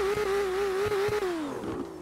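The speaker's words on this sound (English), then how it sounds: "I just want to start the Lambo real quick." A Lamborghini engine in GTA 5 holds a steady high idle-like drone, then its pitch sinks as the revs fall away, loud and close with faint thumps underneath and no talking.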